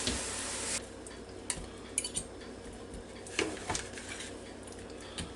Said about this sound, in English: I'm going to take the knife over here and cut it up